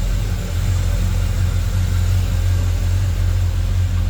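A 1978 Chevrolet C10 Silverado pickup with HEI ignition runs smoothly, a steady, loud, low engine rumble with an even idle hum throughout and no voices.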